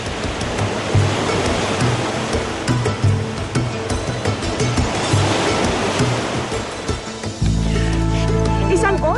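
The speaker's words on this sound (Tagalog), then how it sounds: "Dito tumatagos ang tubig dagat." Sea water surges and washes through a beach-side cave in Quezon, a constant rushing roar of surf that turns into a deeper, heavier rumble near the end.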